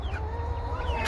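Chickens cluck softly in the morning, a brief run of close fowl calls over a low background rumble.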